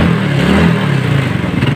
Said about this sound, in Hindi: देखा दोस्तों जब किक प्रेस किए तो बाइक हमारा स्टार्ट हो गया